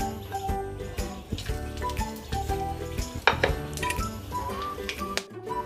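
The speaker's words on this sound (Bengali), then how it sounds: "আমি আবারও ওই তেলেই ফোড়নে দিয়ে দিচ্ছি 3টে এলাচ, 3টে লবঙ্গ আর 4 টুকরো দারচিনি।" Whole cardamom pods, cloves and cinnamon pieces fry in hot oil for a Bengali egg curry, with clinking pan and utensil sounds over a steady crackle as the spices are stirred up close.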